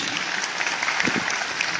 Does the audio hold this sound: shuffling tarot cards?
no